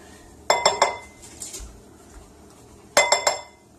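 A spoon scoops mayonnaise out of a jar into a bowl for garlic aioli, making two close, quiet clusters of three quick clinks against the glass and bowl with a short pause between them.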